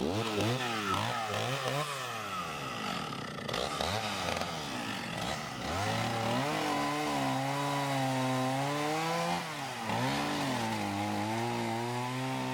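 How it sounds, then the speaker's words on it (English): A chainsaw cuts up firewood from a fallen pine at an off-grid cabin in the woods. The engine is loud and close, revving up and dropping repeatedly as it bites into the wood, and it runs throughout. "This particular day I used the time to cut up and stack wood from a fallen pine."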